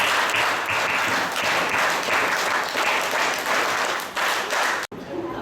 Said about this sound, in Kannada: ಚಪ್ಪಾಳೆ ಸ್ಟಾಪ್